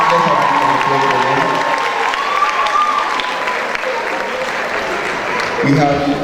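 An audience applauds steadily for cast members of a stage production of Medea, including child actors, as they are introduced. The clapping is dense, with crowd voices mixed in and a brief swell near the end.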